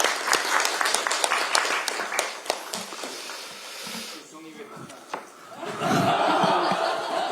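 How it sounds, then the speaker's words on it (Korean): Brief, crisp clapping from attendees at a party leadership meeting, a burst of hand claps that thins out and gives way to murmuring and a few voices, followed by someone speaking. "우리 원내 지도부 위해서 박수 한번 칩시다"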